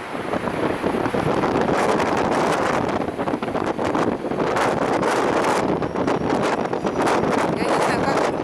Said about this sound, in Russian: Сильнейший ветер,